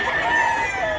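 A white chicken calls loud and near, a sustained clucking crow lasting about a second.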